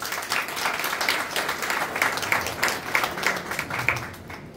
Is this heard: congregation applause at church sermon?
yes